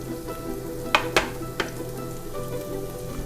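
Tiger prawns hit a hot pan with a steady sizzle, broken by three sharp crackling spits in quick succession near the start, then a softer continuous frying hiss.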